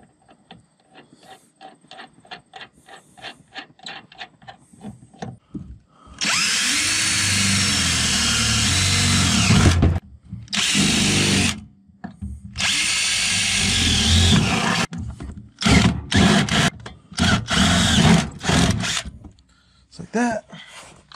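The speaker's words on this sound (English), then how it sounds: "And then I'm just gonna put the nut on." Power drill driving a nut onto a bolt while installing a trailer hitch on a Mk4 Jetta TDI, loud close whirring in several long and short bursts, with clicks and handling noise between them and no talk.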